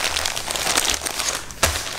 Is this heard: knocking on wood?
no